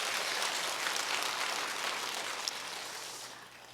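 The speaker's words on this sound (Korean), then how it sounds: "여러분 박수 한번 해주세요." A church congregation at a dawn prayer service claps steadily in a dense, sustained wash of applause, slowly tapering off at the end.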